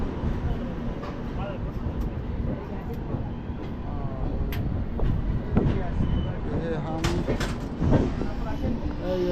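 A Duronto Express, the Mumbai to Howrah AC train 12261, runs at night with a steady rumbling roar of wheels and carriage noise throughout, with a few brief clanks and people talking nearby.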